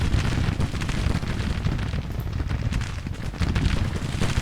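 Artillery fire in Grand Tactician: The Civil War, a dense continuous roll of booming cannon blasts and rumble, loud and sustained with no pauses.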